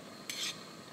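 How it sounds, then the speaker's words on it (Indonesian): Rice is stirred in a cooking pot during a climb of Mount Sumbing, a single short, faint scraping swish heard alone against a quiet background. "Kalau udah mendidih itu diaduk paling enggak, bukan diaduk terus-terusan ya, cuma diaduk dibalik aja yang dari bawah"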